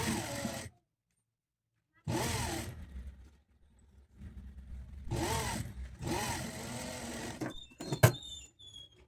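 A sewing machine stitches a strip onto a blouse neckline in several separate runs. Short whirring bursts come first, then a longer stretch of stitching, with quiet pauses between runs and a sharp click near the end.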